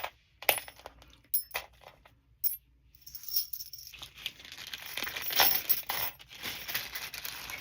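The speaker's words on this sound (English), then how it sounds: "they're just little brass keys" Small brass keys from an antique market jingle and clink as they are handled, with scattered light metallic taps at first that become a steadier, busier jangle, close and fairly quiet.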